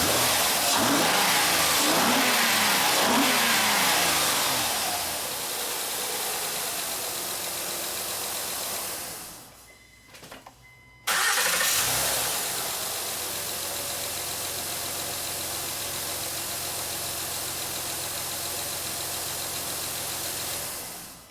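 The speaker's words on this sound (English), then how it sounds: "So now I'm gonna turn off the engine so we can wrap up this video." A 2011 Honda Pilot's 3.5L engine runs loudly, then shuts off and goes briefly silent. A low steady rumble resumes afterward, with no talking.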